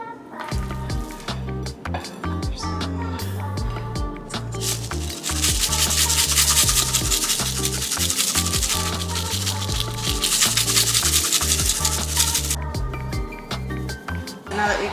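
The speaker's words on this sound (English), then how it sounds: "I'm gonna start by just putting a nice layer of salt directly onto the meat, and the same with pepper" Salt and pepper are rubbed by hand onto raw pot roast meat, giving a close, continuous scraping and rubbing that swells louder midway. A few light clicks and clatters sit under it, with no talking.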